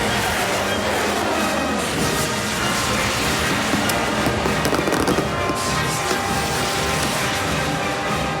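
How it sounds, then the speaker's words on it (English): Unregulated backyard rocket stick fireworks crackle and burst in a dense, continuous barrage of sharp pops and bangs, loud and sustained with no pauses. "a 4-hour session of unregulated backyard rocket spacebound stick explosions"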